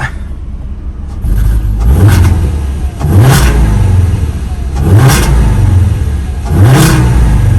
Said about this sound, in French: en mettant quelques coups de gaz